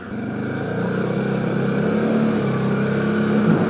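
Engine of a TGB Blade 1000 LT EPS quad running in two-wheel drive at low revs while riding off-road, a steady droning hum that rises slightly in pitch and loudness toward the end.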